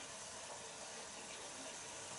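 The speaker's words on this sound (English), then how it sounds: "before I put the water in" Water poured into a pan of braising steak and onion, a steady broadband rushing pour with no pauses, fairly loud and close, alone without talk.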